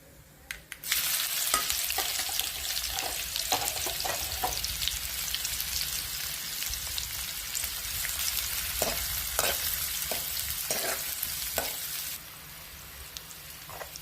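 Onion frying in oil with mustard seeds and cumin, a dense continuous sizzle with scattered spluttering pops and occasional stirring knocks, close, dropping to a quiet hiss near the end, no speech.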